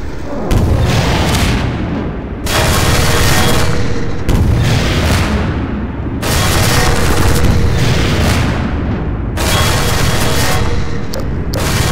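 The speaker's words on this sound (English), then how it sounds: "I got some motherfucking rockets. I'm gonna shoot at it right now." Rocket launcher fire in the video game Half-Life 2 Episode 1, heard as several loud roaring blasts, each a whooshing launch swelling into a long booming explosion, repeating about every two seconds.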